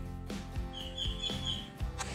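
Birds chirp at night along a Philippine shoreline during a spearfishing outing: one thin, sustained high chirp stands out over a steady low background hum.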